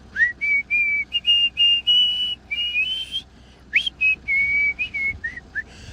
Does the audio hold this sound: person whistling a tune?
yes